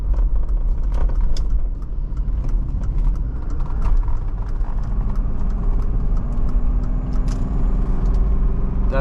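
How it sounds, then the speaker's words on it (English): Steady loud engine drone and road rumble from a 1987 Mercedes-Benz 300TDT diesel wagon accelerating at wide open throttle toward highway speed, heard from inside the car with no voices. "That is wide open throttle."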